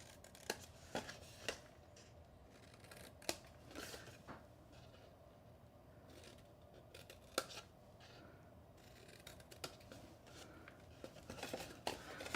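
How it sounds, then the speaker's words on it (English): Paper tabs on a nested shadow box being miter-cut by hand, giving faint, sparse snipping clicks at irregular intervals over a quiet room background. "I'm gonna come in and just miter cut those sections."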